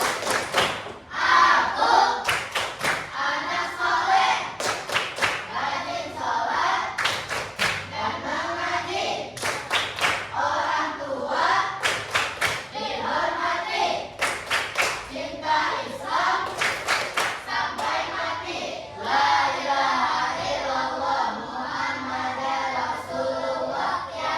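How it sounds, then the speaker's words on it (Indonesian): Pupils in an Indonesian primary classroom perform the 'tepuk anak soleh' rhythmic clap, repeated clusters of crisp group claps in a steady patterned beat, interleaved with loud children's chanting throughout. "Tepuk anak soleh."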